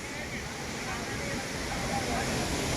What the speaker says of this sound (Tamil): இப்படி போகிறது இங்கே ஒரு அருவி அப்படியே பாறை பார்த்து வந்தால் இந்த பக்கம் ஒரு அருவி